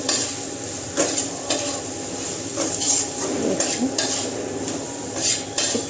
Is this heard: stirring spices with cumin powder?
yes